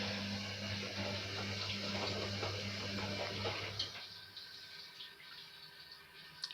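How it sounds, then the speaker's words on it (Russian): Water drains through household sewer pipes near a running Candy washing machine on a 40-degree cotton cycle, a steady rushing gurgle with a low hum that cuts off midway, leaving faint quieter noises. "там с канализации вода сливается"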